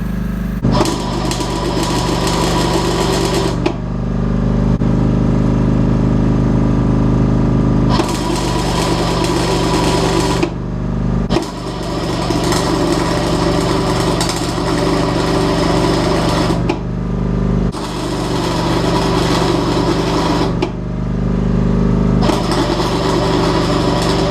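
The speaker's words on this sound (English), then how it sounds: "Now I'm going to show you some of my amazing welding." Arc welding on a David Brown tractor in a workshop, a loud steady buzzing crackle running in several long bursts with short pauses between them, close by and without talk.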